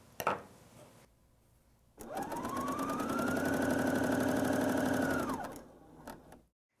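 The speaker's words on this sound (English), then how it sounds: "start sewing" A BERNINA L 620 coverlock machine sews a coverstitch, starting after a few light clicks and running at a steady, fast mechanical whir for about three seconds before slowing and stopping.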